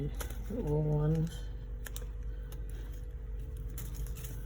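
Keys clack on a replacement keyboard fitted to an MSI Bravo laptop, a few soft, sparse taps heard close and quiet after a short hum near the start.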